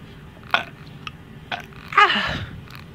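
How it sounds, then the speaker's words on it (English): Several short burps come one after another, the last one longest and loudest, with no talking. "stop burping"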